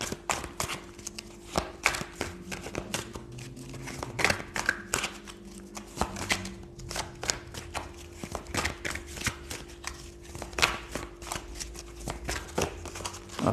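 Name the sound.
shuffling tarot cards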